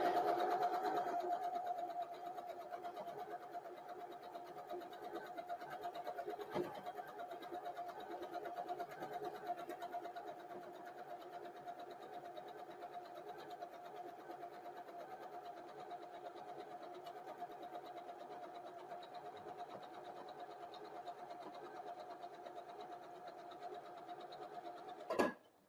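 A sewing machine stitches a quilt block seam, running in a continuous steady whir for over twenty seconds, close and moderately quiet, stopping abruptly at the end with a brief clunk; no talking.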